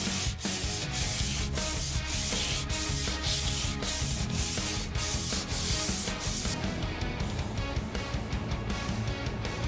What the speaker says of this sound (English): I'm going to start the hand sanding at 120 grit, and we're going to bring it all the way up to about 400.